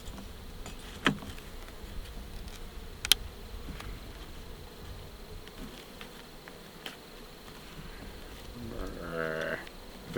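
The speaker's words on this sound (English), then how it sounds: "there's a few bees hiding in the tin" Honey bees buzz faintly inside a package tin in outdoor scrub, a low, steady hum with a few sharp clicks and taps as the tin is handled.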